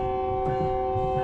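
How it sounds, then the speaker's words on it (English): A locomotive bell rings on an American passenger train in Train Sim World 4 on the Antelope Valley Line, its steady metallic tone sustained over low rumbling engine noise throughout. "where's the bell at? There we go."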